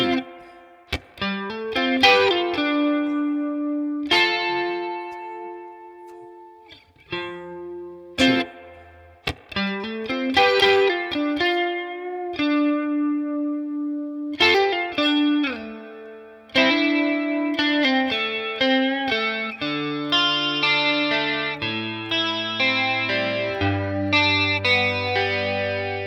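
A song's intro played on electric guitar through effects, a picked melodic line with chorus and light distortion, notes ringing and decaying in phrases, ending on lower sustained bass notes, solo with no voices.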